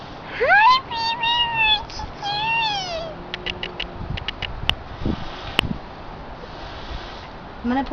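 A cat gives two or three drawn-out, wavering meows close by, followed by soft clicks and rustling while a person talks to it.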